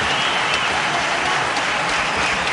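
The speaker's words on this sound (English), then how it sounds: "Yes, he deserves the applause." A cricket crowd at a Pakistan versus India match applauds a batsman's fifty, a dense, steady wash of clapping and cheering that fills the whole moment without a break.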